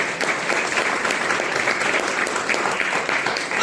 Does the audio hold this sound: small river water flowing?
no